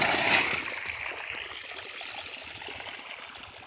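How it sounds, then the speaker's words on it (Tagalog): A flowing stream of water runs steadily in the open, a close and continuous rushing wash that is loudest at the start and then settles into an even flow, with no voices. "Ayan yung tubig natin."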